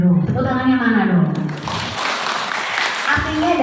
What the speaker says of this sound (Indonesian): tepuk tangannya mana dong?